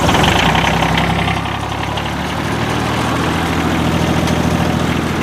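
Two John Deere tractors, a 755 and an 855, idle steadily after a cold start, a loud close low rumble with a faint knocking beat that holds level throughout.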